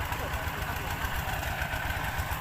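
An engine-driven water pump running beside a sugarcane field, a steady low chugging drone with faint knocking, close and continuous, with a voice talking over it.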